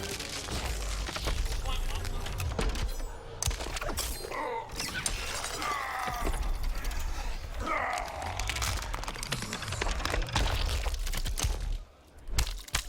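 Death Machine finisher from the fighting game Triborg, a loud, dense stretch of crunching, shattering mechanical game effects running almost without a break for about twelve seconds, with voices commenting over it before a brief dip near the end.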